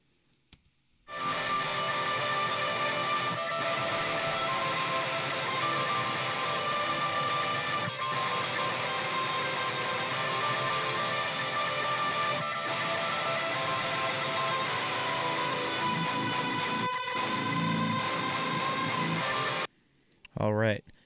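Heavily distorted electric guitar chugs palm-muted rhythm chords through the JST Toneforge Misha Mansoor amp plugin, dense and loud without pause for about nineteen seconds, then cuts off abruptly with a brief tail.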